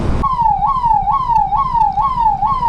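Ambulance siren wailing nearby in a jammed road with stalled traffic: a loud, repeating rising-and-falling electronic tone about every half second over engine rumble.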